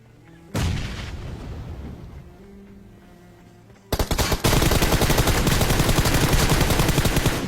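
A grenade blast and gunfire in a battle royale video game, with a sharp loud boom that fades into quiet, then a sudden dense barrage of rapid shots and explosions, with no talk.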